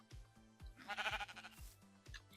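Sheep in Minecraft bleat in a quick wavering burst of several pulses, moderately loud, over a backdrop of repeated low game or music thuds.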